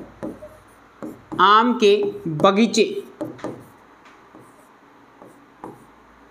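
Short scratchy strokes of writing during a class 10 maths lesson, faint and close, following a brief stretch of someone speaking.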